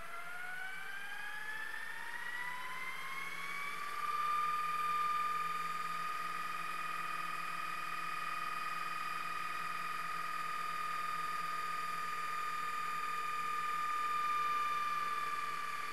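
A Panasonic DMR-EH75V DVD-RAM VCR HDD recorder rewinding a videotape at high speed, with a motor whine rising in pitch over the first few seconds and then holding a steady, tonal hum, alone and fairly quiet.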